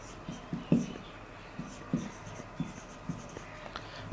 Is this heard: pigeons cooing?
no